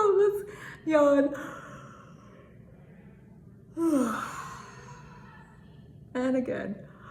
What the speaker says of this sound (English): Let's yawn.